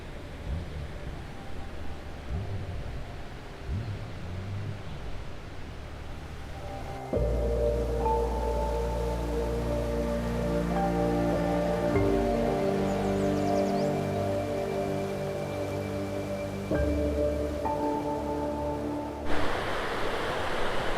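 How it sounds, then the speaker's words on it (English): Rushing river rapids below the collapsed Edenville Dam, a steady broad roar of churning water that runs throughout, with a denser tonal layer of sound joining in partway through. "Over here on this side, you can see how much rapids there are."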